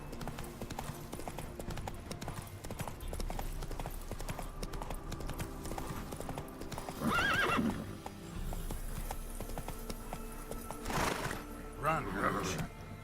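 Roach, the horse in The Witcher 3, gallops with rapid, continuous hoofbeats and gives a couple of sharp whinnies midway and near the end, close and clear, while a voice speaks over the action.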